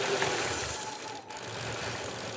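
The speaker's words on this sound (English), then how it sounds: "our engine is warmed up, and we're gonna apply a vacuum here and see what happens" A warmed-up car engine idles steadily nearby during an EGR vacuum test, a dense continuous rumble with a brief dip in the middle as the idle falters before recovering.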